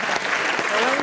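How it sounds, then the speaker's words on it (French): Studio audience applauding a guest's little brother on a French TV entertainment show, a brief steady burst of clapping with voices mixed in. "applaudit son petit frère."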